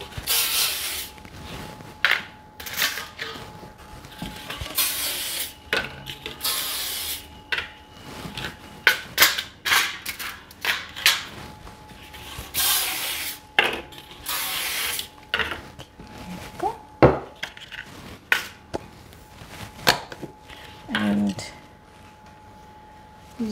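Cooking spray hisses in several short bursts over tart pastry cases held above a kitchen sink for a strawberry and rhubarb tart, mixed with clatter of tins and utensils, with a person talking between sprays.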